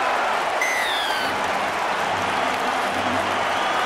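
Welsh rugby supporters in a stadium crowd roar and applaud after a Shane Williams try at a Rugby World Cup match, a loud, dense, sustained wash of cheering with a few whistles rising early on.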